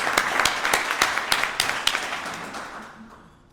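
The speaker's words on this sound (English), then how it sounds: "let's give everyone with a birthday or an wedding anniversary a round of applause." A club meeting audience gives a short round of clapping for members with birthdays and wedding anniversaries, a scattered burst of hand claps up close that thins out and fades over a few seconds.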